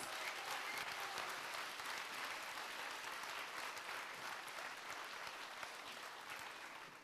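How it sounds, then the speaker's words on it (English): A school audience applauds after a primary annual day stage show, steady dense clapping filling the hall for about seven seconds and tapering slightly at the end. "I think they deserve one more round of applause."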